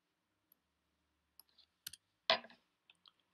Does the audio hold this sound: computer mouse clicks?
yes